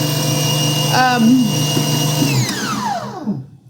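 A Hauswirt digital stand mixer runs with its whisk at speed 11, a steady close motor whine with a bright mechanical hum that winds down and fades near the end.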